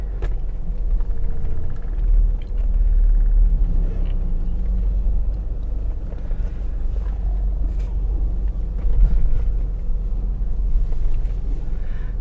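A UK-spec Mercedes-Benz 230E with sunroof drives on a test run, a heavy continuous low rumble of engine and road noise from inside the cabin, steady and loud with no talk.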